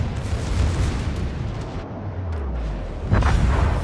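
A heavy battleship salvo in a naval combat game, loud and booming, with deep rumbling explosions rolling on and a fresh blast near the end, and no voices over it.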